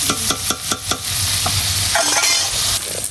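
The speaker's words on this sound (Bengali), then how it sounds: "চিংড়ি মাছটা ভেজে নিচ্ছি।" Prawns frying in hot oil in a home kitchen pan, a steady loud sizzle with sharp scraping and clinking stirs of a utensil against the pan repeating through the first second, then continuous crackle.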